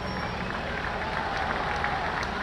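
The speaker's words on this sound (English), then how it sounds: "Let's give a huge round of applause for everyone involved." Outdoor audience applauding after an evening drone and fireworks show, a steady broad wash of many hands clapping at moderate level, continuous and unbroken from start to finish.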